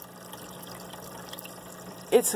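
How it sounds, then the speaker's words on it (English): Feeding trout break the surface with a sudden loud splash near the end, after a quiet stretch of low background water hum. "And they splash the water, actually, when they go up."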